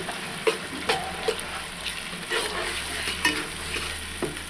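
Fish curry cooking down in a pan until the oil rises, with tomato and onion paste and ground cumin and coriander: a steady low sizzle under occasional soft scrapes and stirring taps, close by.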